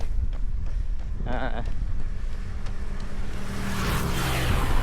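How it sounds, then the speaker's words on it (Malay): Strong, hot wind gusting across open rice-field country during an outdoor run, a steady roaring rush that buffets the microphone, with someone talking over it. "Angin kuat tapi panas. Angin kuat tu nak tolak topi terbang."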